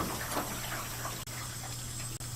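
Running water rinses a dog during a bath, a steady close gush and spatter that holds on without a break, with two short dropouts.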